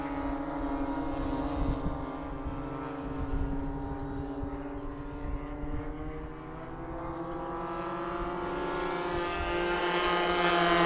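Engines of several airplanes flying together in formation form a continuous, steady droning hum that rises slightly in pitch and loudness toward the end, with no talking.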